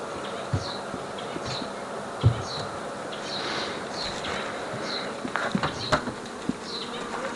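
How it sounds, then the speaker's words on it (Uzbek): Honey bees buzz steadily around mini nucleus hives in an apiary, a continuous insect drone with individual bees droning past up close. "Hamma shu mini nukleuslarga ari soldik."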